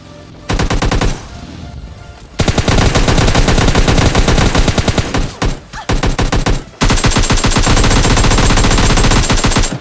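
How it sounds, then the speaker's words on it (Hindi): Loud, dense gunfire in a shooter video game, an AWM sniper rifle among it, with long sustained rapid bursts broken by brief pauses, close and dominant throughout with no speech. "सामने से AWM का फायर आया था।"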